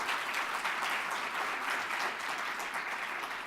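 Audience applause for the panelists at a university talk, a steady wash of many hands clapping, moderately loud and even throughout a few seconds.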